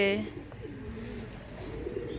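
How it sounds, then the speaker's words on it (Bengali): Pigeons perched on a rooftop pecking at scattered rice give soft, low cooing calls, quiet and close, over faint background noise. "ছাদে এখনো অনেকগুলোই পায়রা বসে আছে এরা সব খেয়ে নিচ্ছে চালগুলো"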